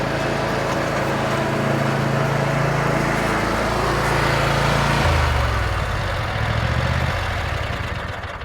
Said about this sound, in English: we're going to talk about the Troy-Bilt zero turn. Dan's going to bring it in right now